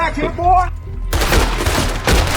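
Rapid bursts of gunfire from a cowboy-themed video game crackle loudly and continuously after a brief moment of voice and game sound at the start.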